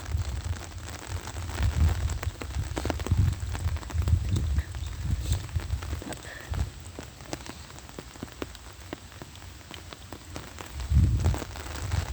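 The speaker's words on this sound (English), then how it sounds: "You can probably hear it on the rain pitter-patter on my umbrella there." Steady rain patters on an umbrella during a city walk on a rainy Sunday, growing heavier, with dense close drumming of drops and low gusty rumbles that swell near the start and end.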